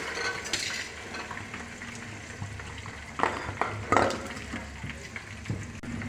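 Dry onion tipped into a hot frying mixture in a pan, giving a soft steady sizzle with a few stirring clatters and scrapes, fairly quiet and close.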